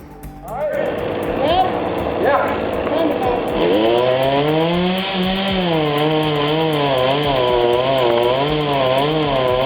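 A chainsaw roars up and cuts steadily into wood, its engine pitch rising and dipping as the blade bites, loud and close.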